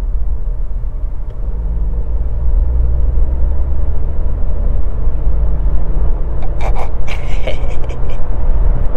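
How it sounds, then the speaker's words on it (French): A car on the motorway accelerates, its loud engine rumble and road noise droning steadily and close from inside the cabin, with a few faint clicks and rattles near the end. "On va se faire une petite accélération."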